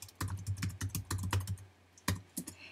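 Keystrokes on a computer keyboard as a username and password are entered for an FTP login, a quick irregular run of clicky taps with a short pause and a final few presses, close and fairly quiet with no talking.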